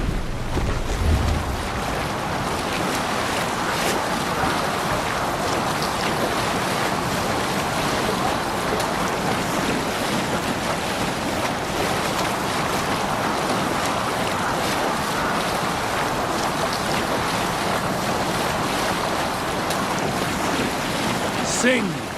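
A Viking longship pushes across open sea in a video game, with a steady wash of waves and wind rushing over the hull, loud and unbroken for the whole stretch.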